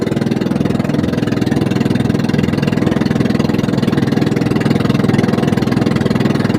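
A fishing boat's engine runs on the way out to sea, a loud, steady mechanical throb with a fast, even pulse and no voices over it.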